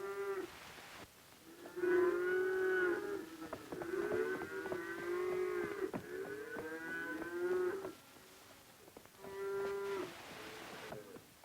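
Cattle on open grassland pasture in eastern Washington and Oregon moo repeatedly, several long, drawn-out calls overlapping with one another, fairly near and clear over a quiet background.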